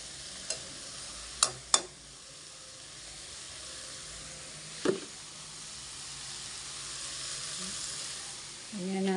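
Garlic, onion and tomato sautéing in a pan give a faint, steady sizzle and hiss with a few sharp clicks of utensils against the pan, heard close and quiet with no talk.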